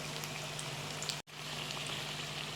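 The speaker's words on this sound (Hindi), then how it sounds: "तो गाइस पकौड़े मैंने डाल दिए हैं।" Pakoras fry in hot oil in a home kitchen with a steady, dense crackling sizzle that holds level throughout, broken only by a brief cut near the middle, with no talk.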